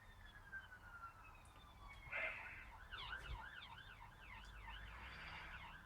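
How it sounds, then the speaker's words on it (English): A distant siren warbles faintly in a rapid, oscillating pattern, rising and falling repeatedly over quiet background noise. "It's Sunday morning and an ambulance"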